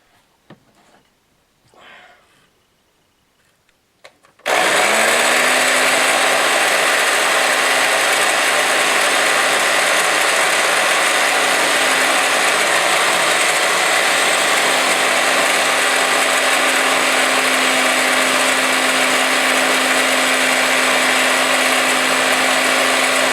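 Electric drill grinding steadily into the fender of a 1964 Honda S90, a loud continuous whirring drone with a sustained tone, starting abruptly after a few seconds of quiet and running on unbroken, with no voices.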